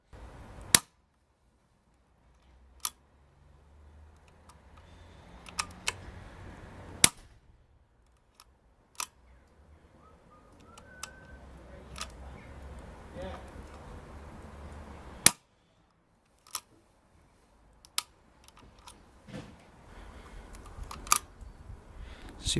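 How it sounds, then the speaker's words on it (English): Weihrauch HW100 PCP air rifle with a single-shot loading adaptor, fired in sharp isolated cracks several seconds apart, mixed with quieter clicks of the bolt and pellet loading at close range. "Put your pellet in, close it, obviously fire off your shot."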